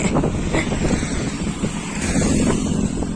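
Steady, heavy headwind buffeting a moving microphone on the road, a continuous low roar with gusty rumble and no voices.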